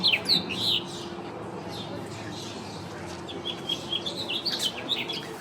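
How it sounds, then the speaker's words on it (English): Birds sing outdoors at a Lowe's garden center in spring, with scattered high chirps and short trills, faint to moderate, over a steady background hum. "Birds are sure singing, still."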